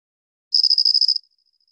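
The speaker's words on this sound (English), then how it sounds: "So we're gonna start with the mud crack field cricket" A mud crack field cricket, once called the stutter-trilling field cricket, gives one clean, high, stuttering trill of about ten rapid pulses over roughly two-thirds of a second, then a faint tapering tail against silence.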